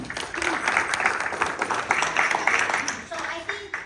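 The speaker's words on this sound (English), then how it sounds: "Round of applause." Audience applause fills a community meeting for Hispanic-Latino families, a steady round of clapping from a crowd that carries on for several seconds and thins out near the end.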